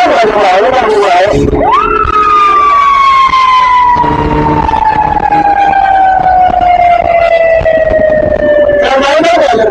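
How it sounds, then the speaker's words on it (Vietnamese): An ambulance siren passes in the opposite direction on a road between Da Lat and Bao Loc during a cycling race stage, a loud, long wail that slowly falls in pitch over a steady roar of traffic. "Có xe cứu thương đi ngược chiều"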